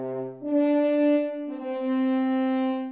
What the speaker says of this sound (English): I have selected a brass section called horns, and it sounds kind of like this.